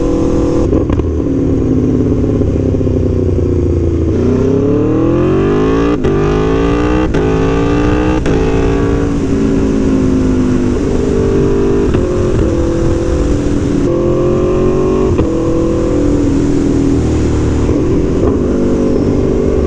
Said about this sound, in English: Tuono V4 exhaust pops.